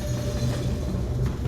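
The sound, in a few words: train running through the dark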